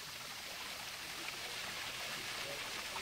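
Lugard Falls, a small waterfall on a Hong Kong hillside trail, strikes rocks in a steady, broad rushing roar that stays constant and fairly close throughout.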